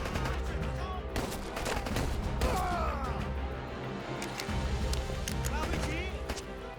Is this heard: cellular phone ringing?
no